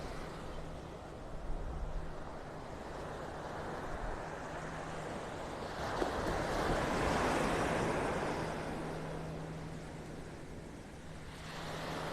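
Ocean surf washes onto a beach in North Naples, Florida, on a morning walk, a faint, steady broadband rush that swells and eases gently throughout, with some wind and no voices.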